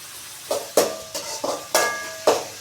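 Grated ginger and garlic being sautéed and stirred in a pan for veg fried rice, with about six distinct scraping, clinking utensil strokes against the pan over soft sizzling, close and moderately loud, no talk.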